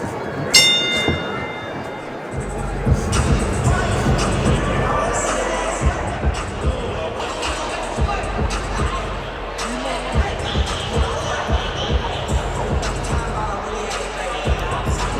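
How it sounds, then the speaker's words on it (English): Boxing arena crowd in Detroit at the Michel Rivera vs Hugo Alberto Rolda fight: a sustained loud roar and cheering of many voices, opened by a ringing bell, with sharp bursts and thuds scattered through and a voice talking over it. "Crowd getting into it here in Detroit"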